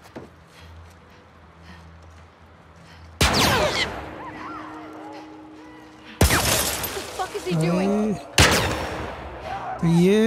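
Sniper rifle shots crack loudly in The Last of Us Part II, three sharp blasts spaced several seconds apart, with game ambience and a voice speaking between them.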